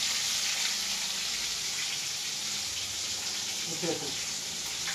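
Tilapia fish heads sizzle in hot oil, three frying at once, giving a steady, broadband hiss that runs unbroken and fairly loud throughout, with a brief bubbling flare near the end.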